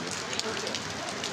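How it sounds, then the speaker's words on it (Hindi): Rain falls steadily and close by, a dense, even hiss of drops pattering on surfaces with no break. "बारिश का मौसम आ गया है"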